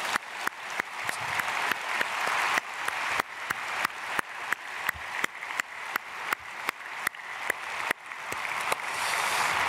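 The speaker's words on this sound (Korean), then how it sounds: "우리 크게 박수로 축복하겠습니다." Church congregation at a dawn prayer service claps together in a steady, even patter, with periodic sharp knocks cutting through the dense applause for nearly ten seconds.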